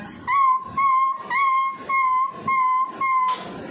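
A young voice imitates a puppy, producing six short, high whimpering yelps in an even rhythm, close to the listener.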